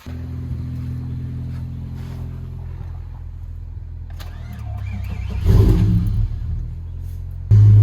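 Truck engine running after a jump start with an idle problem, a close steady mechanical hum that swells as the throttle is blipped, ending with a sudden louder rev.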